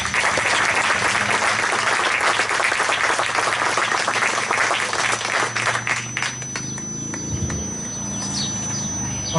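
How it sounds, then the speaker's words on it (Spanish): An audience at a formal ceremony in Spain breaks into loud, sustained applause that swells, then gradually thins out and fades toward the end. "Un aplauso para él, por favor."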